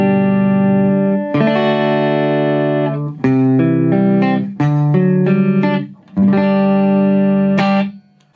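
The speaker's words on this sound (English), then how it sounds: "This is the EQ all set to 12 o'clock. No reverb, it's just a clean channel," A guitar rings through the clean channel of a Blackstar St. James EL34 combo amp with the EQ at noon and no reverb, playing sustained strummed chords with short gaps between them, dry and close.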